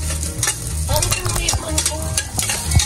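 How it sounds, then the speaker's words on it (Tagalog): Sautéing for Tom Yum soup in a pan: brisk spoon scrapes and clatter over a steady sizzle, close and loud for a few seconds, with no one speaking. "Ginigisa ni Mayora, syempre."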